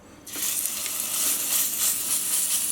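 Steak searing hard in a hot pan of vegetable oil, a loud, steady crackling sizzle that bursts in after a brief quiet start and holds close and even throughout.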